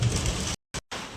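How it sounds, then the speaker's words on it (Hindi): Rain falls as a steady, loud broadband hiss, cut by two brief silent gaps. "अभी बारिश हो रही है, इसी दरमियान हम वीडियो बना रहे हैं।"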